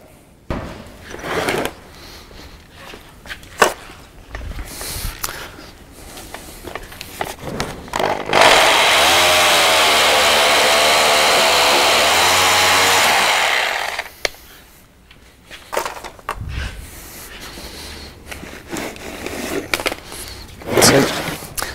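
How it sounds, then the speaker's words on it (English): A power tool cuts through the intercell link of a three-year-old lead-acid battery, a steady loud grinding whine lasting about six seconds, with quieter handling clatter and knocks before and after. "what I'm going to do now is actually cut the link and pull the cell out"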